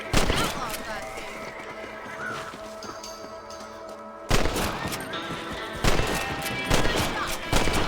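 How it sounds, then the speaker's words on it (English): Rifle shots at rabbits in the western game Red Dead Redemption, several sharp loud cracks at irregular intervals over hoofbeats and horse sounds, with voices talking. "Shooting rabbits and outlaws, I see."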